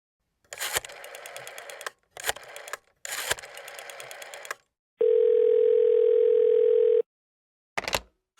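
A telephone dial tone hums as a call is placed: three bursts of mechanical whirring and clicking, then a steady loud tone held for about two seconds, then one more short burst.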